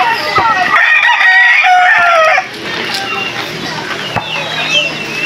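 Fighting rooster (gamecock) gives one loud, close crow lasting about two seconds, followed by quieter farmyard ambience with faint bird calls.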